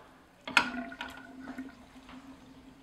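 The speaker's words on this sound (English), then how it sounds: "it appears to be draining like it should" Water draining from a half-filled kitchen sink after a clog was cleared, a soft continuous gurgling trickle that starts with a brief splash and then runs steadily and quietly.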